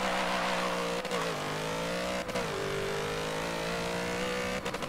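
Twin-turbo LS engine in a Plymouth Prowler drag build in Forza 7, a loud steady high-revving drone with a few brief dips where the pitch shifts, like gear changes.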